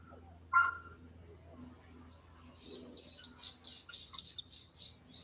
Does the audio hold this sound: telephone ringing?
no